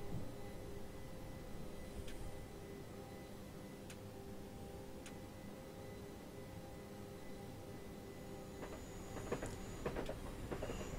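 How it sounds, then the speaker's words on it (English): A Class 377 Southern train in Train Simulator 2015 runs steadily with a low rumble and faint rhythmic ticking, with brief squeals and clanks rising near the end. "That train sounds a bit serious."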